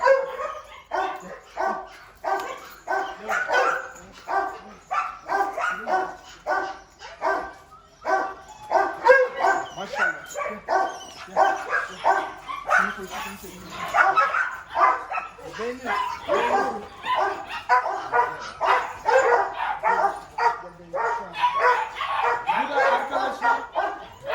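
A Malaklı dog on a farm barks repeatedly, alongside other dogs yipping and whimpering close by, while someone talks over the barking throughout.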